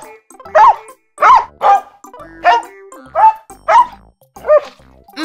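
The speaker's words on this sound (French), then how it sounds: "Le chien aboie." A dog barks six times in a steady, evenly spaced rhythm, each bark loud, close and sharp, with short silent gaps between them and no talking.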